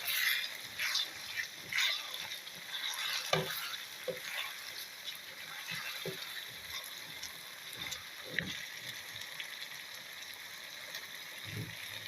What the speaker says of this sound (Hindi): वो इसके अंदर हम लोग शामिल कर देंगे। इसके साथ ही ये इसकी भुनाई करेंगे।